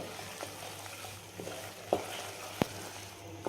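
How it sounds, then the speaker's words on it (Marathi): Gram flour roasts in ghee in a pan for a sweet barfi. A soft, faint sizzle runs under the clip, and a few sharp spoon scrapes and taps stand out, with no talk. "तुपामध्ये फक्त खमंग एकदम असं भाजून घ्यायचं आहे आपल्याला"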